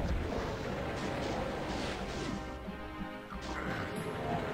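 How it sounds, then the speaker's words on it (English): Rapid chaingun fire from Chaingunner enemies in Doom II, a dense continuous clatter of shots with crashing impacts running through the whole stretch, loud and close. "I hear chain gunners."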